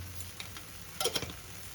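Kashmiri aloo dum spices frying in a pan to cook off their raw smell, with a soft, steady sizzle and a few brief crackles and scrapes near the end; no talking.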